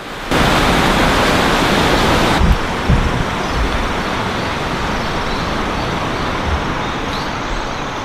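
A stream runs along a wet footpath beneath a highway in rural Japan. Loud, continuous rushing water holds steady from start to finish. A dull thump or two comes through it early on.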